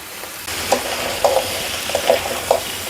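Cleaned fresh green crab frying in well-sautéed onions in a pan, a steady close sizzle broken by several sharp stirring scrapes and clacks of a spoon, no voices.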